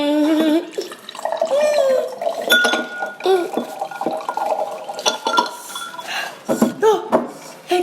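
Water being poured and drunk during a hot wings challenge, with glasses and dishes clinking, sloshing and small knocks scattered irregularly, close and moderately loud.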